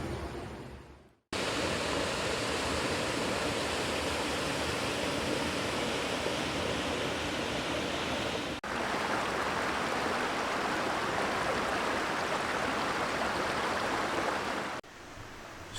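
Steady rushing river water flowing continuously near Abbeystead reservoir, a full broadband wash with brief cuts, no voices over it.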